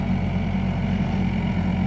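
A Hyundai 55-7 excavator engine idles with a steady low rumble and a constant hum, close and even, with no voices.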